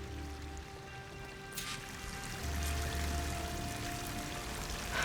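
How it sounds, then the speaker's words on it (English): A waterfall in the game Horizon Forbidden West rushes in a steady, broadband wash of falling water, continuous and moderately loud throughout, with faint tonal ambience and a low rumble that swells partway through. "That waterfall must be coming from somewhere."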